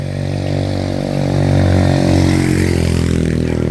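A scooter engine drones past on a street in the Philippines, a low buzzing motor that swells louder midway and holds steady, heard close with no talking.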